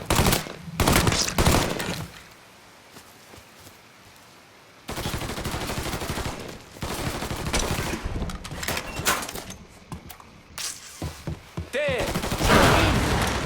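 Gunfire in the Mafia III video game: several loud bursts of shots and rapid fire near the start and again from about five seconds on, with a short shouted line and other voices between the shots.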